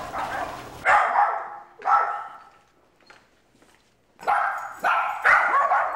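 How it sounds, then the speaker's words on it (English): Small dogs in a house bark in short, loud bursts, a few yips at a time with quiet gaps between, heard close by without talk. "the dogs was gonna be barking and they wasn't gonna be quiet"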